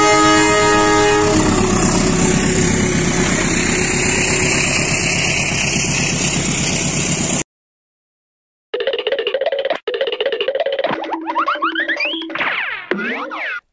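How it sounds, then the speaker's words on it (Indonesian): A CC201 diesel locomotive roars loudly and steadily with a sustained horn blast, then after a short silence comes a burst of rail and horn-like tones with rising and falling sweeps. "Kereta CC201."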